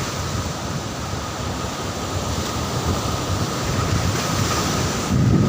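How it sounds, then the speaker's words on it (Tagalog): Strong ocean waves at Patar Beach, Bolinao, Pangasinan roar as a continuous broadband wash, loud and steady, swelling slightly toward the end, with no voices. "Oh, lakas, oh. Lakas ang alon guys."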